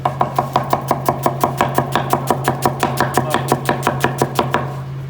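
Quick, steady knife strikes on a cutting board chopping salad vegetables, about twenty even chops in a row, close and clear with no talking.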